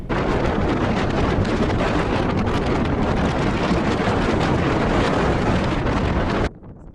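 Strong wind on a Mont Blanc ridge at around 120 km/h, a loud, continuous roaring buffet against the microphone that holds steady for several seconds before cutting off abruptly.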